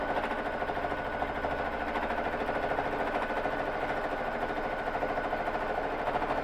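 A Babylock Jazz II sewing machine stitches free motion quilting with Aurifil thread, giving a steady, continuous mechanical whir with a fine rapid stitching rhythm, close and even throughout with no speech.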